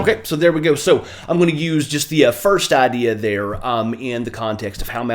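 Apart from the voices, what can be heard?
No everyday noise stands out behind the speech.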